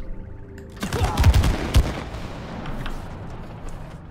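Shooting in the co-op video game It Takes Two, a short burst of rapid gunfire rattling out loudly for under a second, then fading into quieter game ambience.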